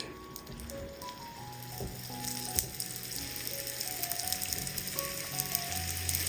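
Batter frying in ghee in the hollows of an unniyappam pan gives a steady, close crackling sizzle with scattered pops throughout. No one speaks.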